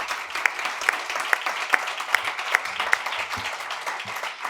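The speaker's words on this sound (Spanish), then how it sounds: "te pido un aplauso para Julio Hierro" An audience applauds steadily at a book event celebrating Librotea's tenth anniversary, with sharp claps cutting through a moderate, continuous wash of clapping.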